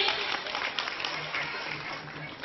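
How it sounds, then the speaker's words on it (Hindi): Audience applause welcoming a guest on stage at a news-covered event in Madhubani, a dense steady clatter of many hands throughout the short stretch, moderately loud and somewhat distant. "एक बार जोरदार तालियों से उनका स्वागत कीजिए।"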